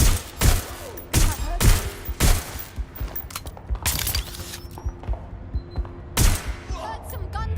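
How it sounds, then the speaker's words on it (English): Gunfire crackles in the video game Watch Dogs: Legion as irregular volleys of sharp shots, some in quick clusters and some spaced apart, with mechanical clicks in between. "Heard some gunfire."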